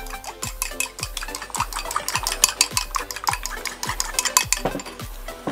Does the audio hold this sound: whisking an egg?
yes